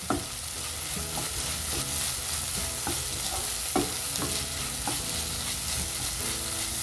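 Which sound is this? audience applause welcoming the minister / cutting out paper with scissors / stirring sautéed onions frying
stirring sautéed onions frying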